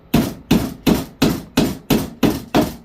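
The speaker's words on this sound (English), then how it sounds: "So we're gonna hammer it home." Seven evenly spaced hammer blows drive a nail into wood while a 9-cube organizer is assembled, each strike sharp and close with a brief ringing decay, and no talking in between.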